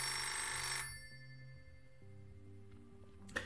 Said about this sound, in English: I have to answer the incoming calls from the direct contact line. It's our emergency phone.